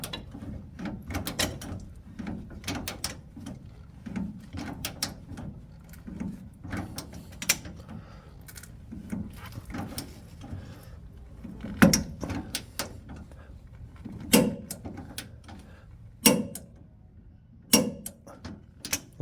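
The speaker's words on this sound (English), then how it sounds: "We just got to torque it up to 120 Newton meters" Torque wrench clicking and ratcheting while a nut is tightened on a Toyota Hilux leaf spring, close and distinct: irregular mechanical clicks and clacks, with a few sharper snaps standing out, and no talking.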